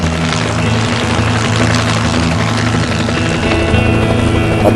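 A helicopter hovers in one spot, its rotor producing a loud, steady, close chopping drone with an even rhythmic beat and engine hum throughout, with no talking.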